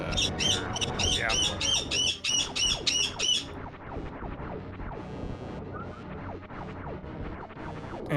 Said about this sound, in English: yes, I have birds. Chloe is complaining that she's in her cage